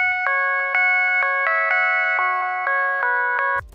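The same synth chord pattern is heard with narrow-Q EQ cuts applied, its stabbing chords changing at a steady pulse and sounding slightly smoother, with less ringing, loud and alone until a sudden stop.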